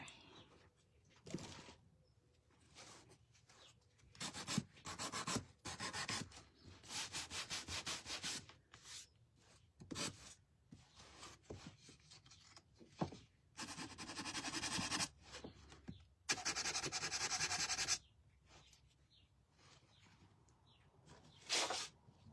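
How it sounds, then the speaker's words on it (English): Sandpaper rubs back and forth over a painted wooden garden stake in repeated bursts of dry scratchy strokes, close and moderately loud, separated by short pauses, with faint birdsong in the background. "I'm going to take a separate sheet of sandpaper just to kind of sand the red."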